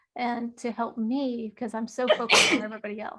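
A single loud sneeze bursts out in the middle of a woman's steady conversational speech, close and abrupt, with her talking continuing on either side of it.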